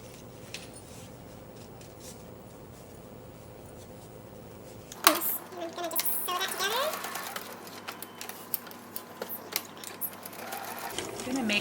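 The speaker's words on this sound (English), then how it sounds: "I'm sewing a little rectangle just to the line element, and it reinforces it." Sewing machine stitches a fabric strap in quick, uneven mechanical bursts after a quiet start, close and fairly faint, while someone talks over it.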